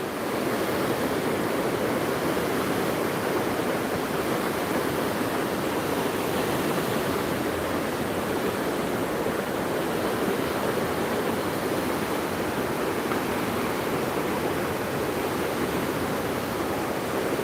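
Hope River in Gordon Town rushing in flood after Hurricane Melissa, a loud, steady roar of churning water that fills the whole stretch without pause, close by and with no voices.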